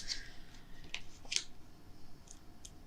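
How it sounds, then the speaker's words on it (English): Scissors trim excess paper from die-cut tags, making a few short, crisp snips and clicks close by, spaced irregularly over a quiet room. "Maybe I'll trim off a little excess paper."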